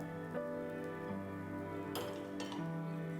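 A spoon stirs grated coconut in a pan for a Kerala coconut beef curry, with a couple of clear clinks against the metal over a steady tonal hum and no speech.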